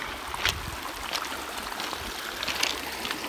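River water flowing and trickling steadily over rocks on a long outdoor walk with a dog in a new harness, a soft continuous wash with a few brighter splashes, close by and alone.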